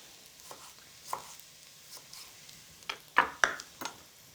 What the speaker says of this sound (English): Just give that a stir through.